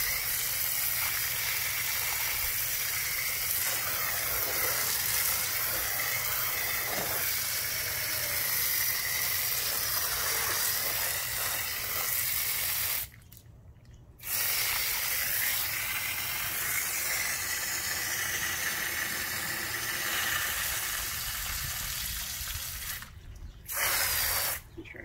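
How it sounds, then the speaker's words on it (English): Hose water spraying steadily onto a car wheel to rinse off wheel cleaner, a loud continuous hiss that cuts out for a second around midway and briefly again near the end. "You gotta really make sure you rinse it good."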